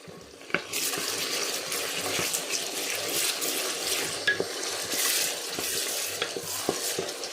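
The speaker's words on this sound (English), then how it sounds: "Let me stir it first." Tomato paste and onions are stirred in a pot, a steady close sizzle of frying with scraping spoon strokes and occasional sharp clinks against the pot.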